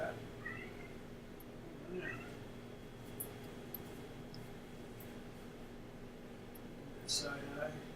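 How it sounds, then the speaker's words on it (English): A cat meowing in a home, a few short, fairly faint mews spread out over a steady room hum, with a louder cry near the end. "What do you want, Baba Cat?"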